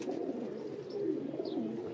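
Soft, repeated cooing of Rampuri pigeons, low and throaty, continuing steadily through the clip at moderate volume with no talking.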